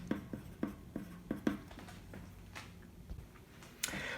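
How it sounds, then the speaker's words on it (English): A pencil draws small circles on paper for a fashion croquis sketch, heard as a quick series of close, light scratchy taps followed by softer strokes, with no talking. "We're going to draw little circles at the elbows level, like so."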